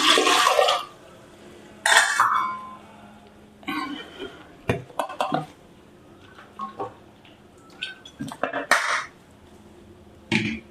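Water splashes into a pressure cooker holding rinsed chickpeas (chana) in a home kitchen, in several short pouring bursts broken by clanks of the metal pot and lid, close by.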